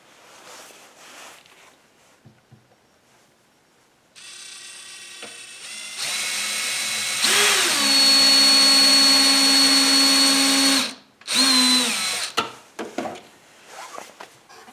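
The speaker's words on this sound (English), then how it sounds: "I want pilot holes in the bottoms of these, and then the sides of these, and then through here. Otherwise, I may split wood." A power drill bores pilot holes in wood, whining at a steady high pitch for several seconds. The motor pitch shifts under load, then it stops, restarts briefly and ends with handling clatter.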